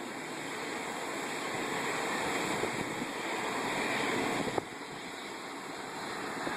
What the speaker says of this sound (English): See, the water is just gushing out of the river.